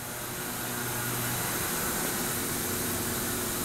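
A Fanuc RoboDrill Mate CNC machine's spindle runs steadily at 5,000 RPM, a constant high whirring hum with broadband machine noise, heard alone.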